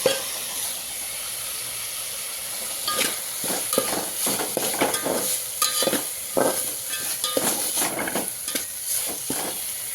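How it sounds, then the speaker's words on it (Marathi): Grated coconut frying in a pan of mutton curry, a steady sizzle and hiss with repeated scraping stirs of a spoon close by. "आता त्याच्यामध्ये हे काढून घेतलेलं खोबरं टाकून घेऊया"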